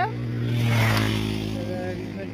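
A motorcycle engine hums steadily at close range and swells briefly as it revs, with a voice audible over the engine.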